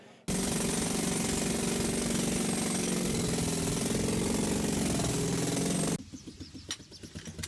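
A pneumatic breaker hammers loudly and continuously for several seconds into hard rock during a rescue excavation, then cuts out, leaving fainter rattling and knocks.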